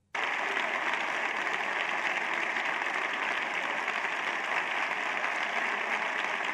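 Steady, sustained applause fills a parliament chamber, a dense even patter of many hands that starts abruptly and carries on without a break, moderately quiet and with no one talking over it.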